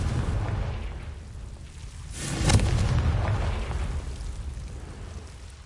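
A fiery explosion spell in a video game lets out a single deep boom that swells and then fades into a rumbling tail, with no speech over it.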